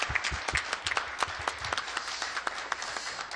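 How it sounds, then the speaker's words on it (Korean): Audience applause at a Korean church colloquium honoring three pastors, a dense steady patter of many hands clapping with a few sharper claps, moderately loud and continuous without speech. "박수로 하나님께 영광 그리고 이 세 분에게"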